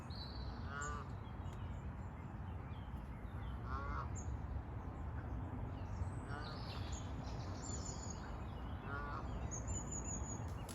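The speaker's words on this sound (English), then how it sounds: "Loads of geese fighting and thrashing about in the water" Geese honk repeatedly at a distance over a constant rushing background, their calls coming in bursts every couple of seconds as they fight and thrash about in water.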